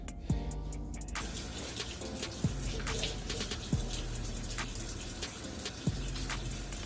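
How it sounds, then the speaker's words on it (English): Water running steadily from a kitchen tap into a sink as hands are washed before cooking spaghetti and garlic bread, a constant close gush with occasional low knocks and splashes. "We gotta wash our hands"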